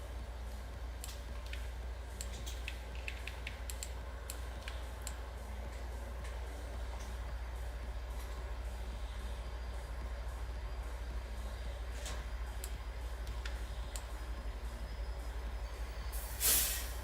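A train rolls steadily along the track in Farming Simulator 25, a low continuous rumble with scattered ticks and clicks and a short hissing burst near the end, no talk over it.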